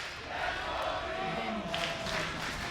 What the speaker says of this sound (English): crowd here in the Berlin studio. Alive with the sounds of G2 chants